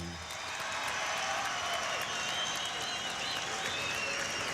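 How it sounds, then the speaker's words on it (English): A boxing crowd in the Contender Arena applauds two fighters after their bout, a steady wash of distant clapping and cheering with faint high whistles across the whole stretch. "give both these Latin warriors another round of applause"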